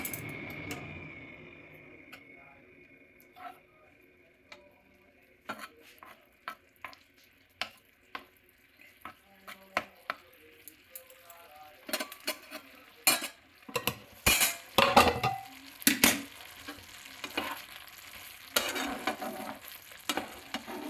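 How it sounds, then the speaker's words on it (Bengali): Fried potatoes are stirred into a spice masala in a pan, a low sizzle under frequent sharp clinks and scrapes of a metal spoon against the pan that grow busier and louder toward the end, no voices. "দিয়ে এবারে ভাজা আলুগুলো এই মশলাতে মিশিয়ে দিলাম, দিয়ে এটাকে একটু ভালো করে নেড়ে নেব"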